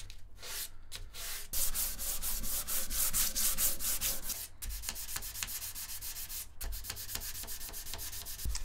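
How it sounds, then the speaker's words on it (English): Sandpaper rubs across a wooden guitar body in quick, light strokes, a close, soft rasping in repeated passes with brief pauses between runs. "use a sharp piece of sandpaper, light pressure, and just move quickly as you're going."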